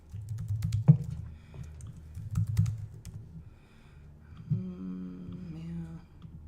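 Someone types a password on a computer keyboard in a quiet room, producing short irregular bursts of close, crisp keystrokes separated by brief pauses.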